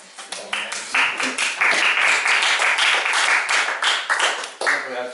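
Club audience applause at an English-speaking club meeting, a burst of many hands clapping that swells quickly and holds steady for several seconds before thinning out, with voices murmuring underneath.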